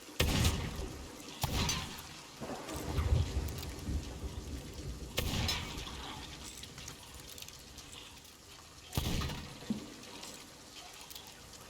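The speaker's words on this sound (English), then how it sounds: "thank God it's raining" Rainfall in the pirate game Sea of Thieves, a soft, steady patter with a few louder whooshing swells rising and fading at intervals, no speech.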